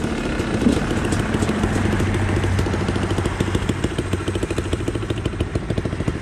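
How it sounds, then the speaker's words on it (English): A Honda XR100 motorcycle engine and exhaust running close by, a steady loud rattling chug with rapid irregular pulses and an uneven beat throughout. "My exhaust sounds different."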